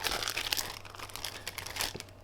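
The plastic wrapper of a cheese slice being crinkled and handled, heard as close, loud, continuous crackling with a few sharper rustles, and no talk.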